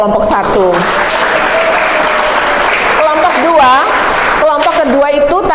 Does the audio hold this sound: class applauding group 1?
yes